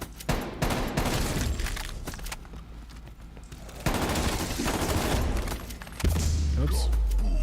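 Video game gunfire from a round of Cold War Zombies, with loud, dense bursts of shots and heavy thumps running continuously throughout, and a deep rumbling boom near the end.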